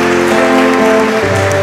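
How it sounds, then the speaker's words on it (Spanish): A church congregation in Quingeo, Azuay, Ecuador claps for a couple celebrating their golden wedding anniversary after Mass, a loud, dense round of applause that continues steadily throughout. "Nuevamente felicitamos con un aplauso a don Manuel, doña María."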